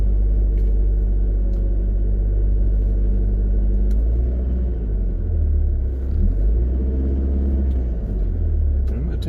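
A 2007 Pontiac Solstice GXP drives along with a deep, steady engine rumble heard from inside the car, rising and falling slightly as the speed changes, with no one talking.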